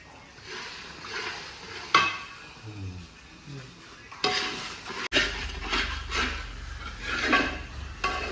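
Banana stem halwa is stirred steadily in a pan after cornflour is added, giving soft repeated scrapes and wet swishes with a low simmer underneath and an occasional utensil knock.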